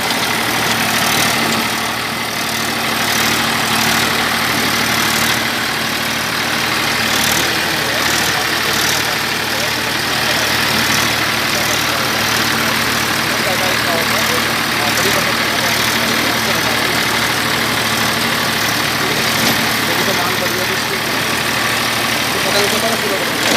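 A new Massey Ferguson 241 DI tractor, 41 HP with a five-speed gearbox, runs with a steady, loud diesel drone and a constant low hum throughout, while someone talks over the engine.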